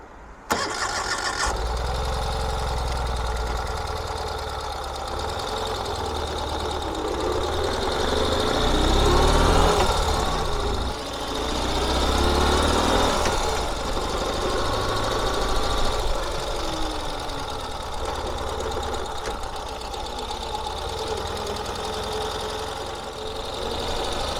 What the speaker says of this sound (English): I'm going to take this Ural just for a little ride up and down the side of our property here